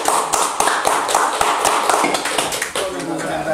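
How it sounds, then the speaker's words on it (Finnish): Guests applaud at a Finnish thirtieth-birthday gathering, a steady burst of many hands clapping in a lively room while voices talk over it. "Antakaa molemmille aplodit."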